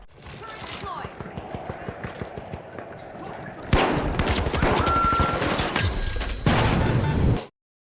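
A turret in the video game The Finals fires rapid sustained bursts, a dense rattling stream of gunfire that grows louder and heavier midway and then cuts off abruptly, with a voice speaking beneath it.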